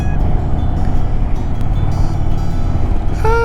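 Indian motorcycle engine on a test ride, a loud steady low rumble with wind noise throughout, close up with no pauses.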